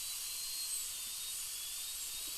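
A dental drill polishes the surfaces of a tooth during a composite restoration, giving a thin, steady high-pitched whine at low volume.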